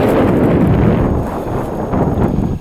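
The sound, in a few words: wind blowing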